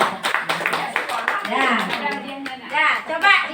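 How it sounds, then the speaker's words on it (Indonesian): A group of teachers in a training session clap for a colleague named Ibu Asmaida. A brisk burst of clapping comes first, then voices talking and calling out take over as the claps fade. "tepuk tangan Ibu untuk Ibu Asmaida"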